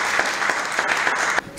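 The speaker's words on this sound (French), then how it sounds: "C'est par des acclamations bien nourries" Steady applause from a crowd at a Benin national order award ceremony, continuous clapping for over a second before it cuts off abruptly near the end.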